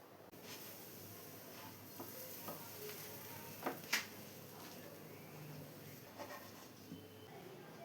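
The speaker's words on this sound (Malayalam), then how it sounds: "ഇനി ഇതിലോട്ട് ഓരോ ബ്രെഡ് സ്ലൈസസായി വെച്ച് നമുക്ക് നന്നായി ഒന്ന് ഫ്രൈ ചെയ്തെടുക്കാം" Bread slices fry in ghee or butter in a pan with a faint steady sizzle and hiss, punctuated by a few soft clicks and scrapes as they are handled.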